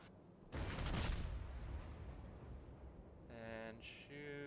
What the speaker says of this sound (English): So I start shooting at him.